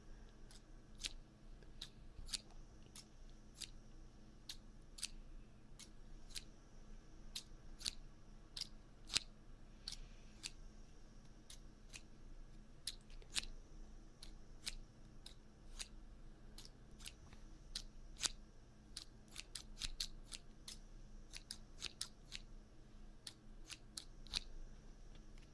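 Scissors snipping close to a binaural microphone during an ASMR session, crisp sharp cuts coming in irregular clusters across a quiet background, soft and intimate.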